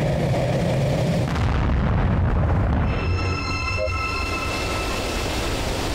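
A ship gets shot down in the video game Planet RIX-13, a heavy rumbling roar with booming impacts that fades into a lower mechanical hum with faint electronic tones, while a voice talks over it.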